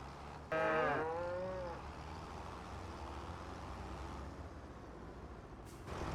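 A single loud cow moo rises and falls near the start in Farming Simulator 25, followed by quiet farm ambience and a faint click near the end.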